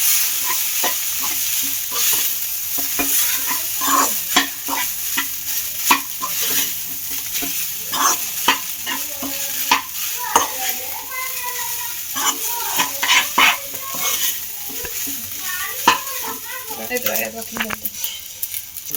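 Vegetable fried rice stir-fried in a pan over high flame, with steady loud sizzling and repeated scraping and clanking of the spatula against the pan throughout, and brief faint voice fragments in the background.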